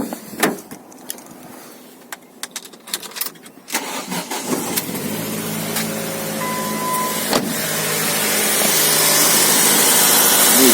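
A Ford Focus ST 170 with a 2-litre 16-valve engine and 174,000 miles cranks over in winter cold after a few clicks, then catches and settles into a steady, close idle that builds slightly in loudness.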